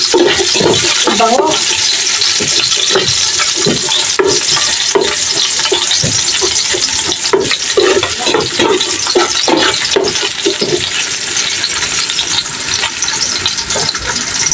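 Onions sauté in a hot pan while salmon sinigang is being cooked, giving a loud, steady close-up sizzle with scraping stirring sounds throughout; a voice speaks briefly over it.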